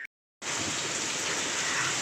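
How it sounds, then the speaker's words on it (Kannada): After a brief silence, hail and rain come in abruptly as a dense, steady roar of pelting drops, loud and constant throughout. "ಆನಿಕಲ್ಲಿನ ಮಳೆ ಆಗತೈತೆ ನೋಡ್ರಿ."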